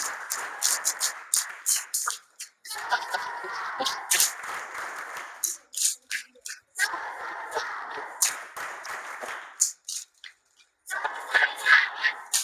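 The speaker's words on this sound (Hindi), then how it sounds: "एक बार अपने लिए आप शाबाश ताली बजा ले" Children in a classroom clap hands for themselves in several loud bursts of brisk, ragged applause, separated by short pauses with a voice speaking between them.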